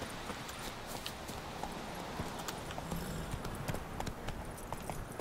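Horse hooves in The Witcher 3: Wild Hunt clip-clop in a steady trotting rhythm, crisp and close, over a soft background with no talking.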